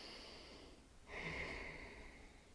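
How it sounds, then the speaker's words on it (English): A slow, deep breath drawn in and let out during a prenatal yoga warrior two pose, soft and close, with a steady airy rush and no talking. "Take one more full breath here."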